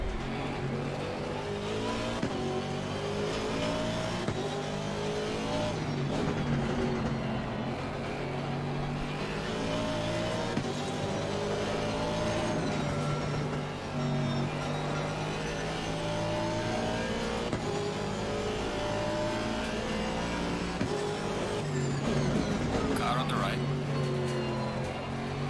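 A BMW race car in Assetto Corsa Competizione holds a steady, loud engine drone at speed, pitch shifting slightly through gears, with a voice talking over it throughout.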